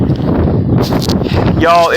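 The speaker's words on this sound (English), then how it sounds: "I'm really sorry about this wind. It is very windy today." Strong outdoor wind buffets the microphone on a very windy day, a loud, constant low rumble under a person talking.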